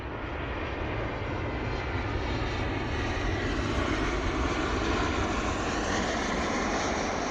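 A Ryanair passenger jet comes in to land at an airport, its engines giving a loud, steady, broad roar that fills the whole stretch without a break.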